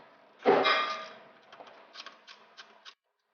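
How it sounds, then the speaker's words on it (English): A 5/16 wrench works on the sensor bolts of aftermarket intercooler charge piping: one sharp metallic clang, then a run of lighter clicks and ticks, close and fairly quiet. "I'm going to use a 5/16 to remove these bolts."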